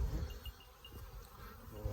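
Honeybees from a newly settled swarm buzz faintly around the hive on a farm as they come and go, a soft scattered hum with a few brief passing tones.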